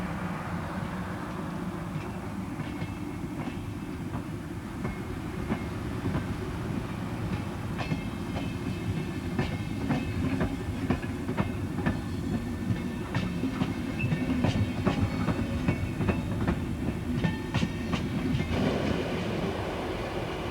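A Swiss BLS train rumbles steadily along the rails, its wheels clicking and clattering in a continuous rhythm, loud and close, with no voices.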